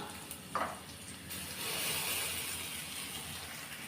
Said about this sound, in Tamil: இப்போ இதை நல்லா வதக்கி விட்டுறலாம்